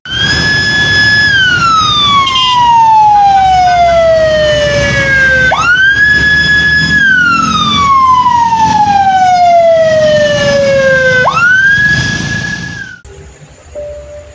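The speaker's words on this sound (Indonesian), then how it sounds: "Tiba-tiba mereka dengar ada suara ambulans." An ambulance siren wails loud and close in long, repeating downward-sweeping cycles, with no voices over it, and then cuts off abruptly near the end.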